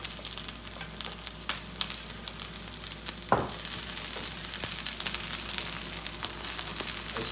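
Garlic and red pepper fry in a pan at the start of a mango chicken stir-fry, a soft steady sizzle with light stirring ticks and one sharp scrape or knock partway through.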